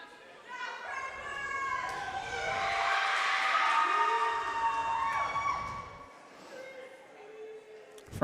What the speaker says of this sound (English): Franklin faithful cheering on their team.